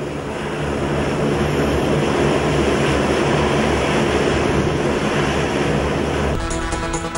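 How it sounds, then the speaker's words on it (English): An Indian Air Force plane waits on the ground at Palam Technical Air Base, about to take off. Its engines give a loud, steady, wind-like roar throughout, shifting in tone near the end, with no talking. "the Indian Air Force plane is now about to take off any minute now"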